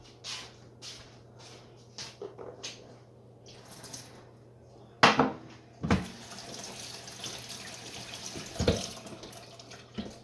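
Tap water runs over jars of home-canned Salisbury steaks being rinsed at a kitchen sink, a steady splashing stream with a few louder gushes and clunks partway through.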